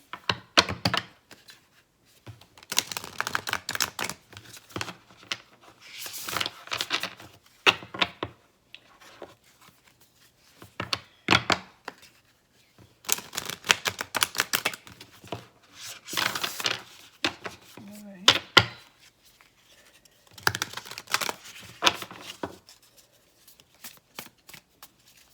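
Thick oracle cards being shuffled by hand in repeated bursts of riffling and rubbing, close up, separated by short pauses.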